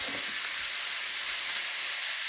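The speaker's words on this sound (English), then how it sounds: "when you sear your meat" Meat, ribs for a teriyaki dish, sears in a hot pan with a steady, even sizzle that stays close and constant throughout, no voices.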